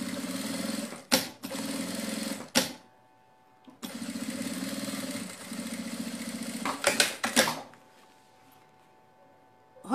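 Sewing machine stitching a pocket onto a fabric bag, running in two long close bursts with brief stops between, then falling quiet near the end.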